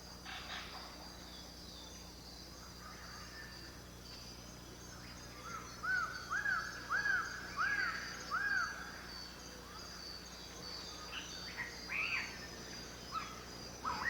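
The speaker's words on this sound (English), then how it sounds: "the bird voices they heard throughout the forest" Tropical forest in New Guinea with a constant insect and cricket drone, over which several distinct bird calls ring out in short repeated phrases, some closer and louder, others distant.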